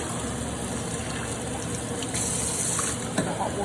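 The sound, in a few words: hot water running through rice to rinse off starch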